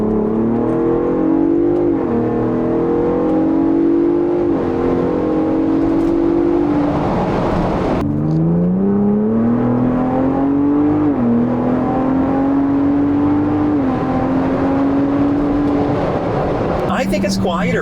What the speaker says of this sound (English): I just rather have it actually be the real exhaust noise coming through the cabin